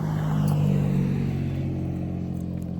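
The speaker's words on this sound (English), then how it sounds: "Loud cars." Loud cars passing on a road, a steady close engine rumble with a rising rev that swells and slowly fades, no speech over it.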